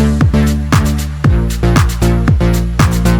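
A Crystal Castles-style closed hi-hat pattern rides over a full electronic angelcore beat, with tonal synth layers and punchy kicks repeating about every half second, loud and steady with no voices.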